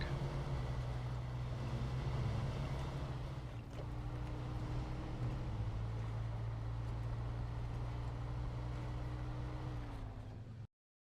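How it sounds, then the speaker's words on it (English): Heavy truck engines in the off-road driving game SnowRunner, a steady low droning rumble that holds for about ten seconds with a faint rising whine, then cuts off abruptly to silence. "Yeah, the trucks are pretty loud."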